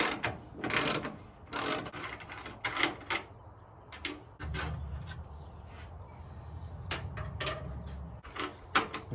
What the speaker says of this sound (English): we're going to go ahead and remove our fender bolts.